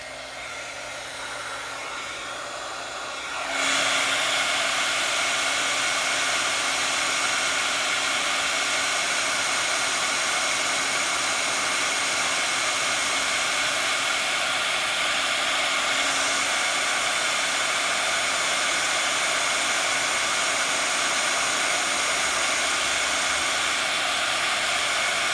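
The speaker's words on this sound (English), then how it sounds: "then we're gonna bring back into the heat tool. Heat this up and melt it." Heat embossing tool blows a steady, loud hot-air roar for over twenty seconds while melting embossing powder on a Christmas tag, starting abruptly after a quiet opening and continuing unbroken.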